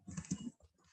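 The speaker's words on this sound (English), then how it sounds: "you can type it from keyboard as well." Computer keys clatter in a short, quick burst of close, soft clicks, then pause, with one or two faint taps afterward in a quiet room.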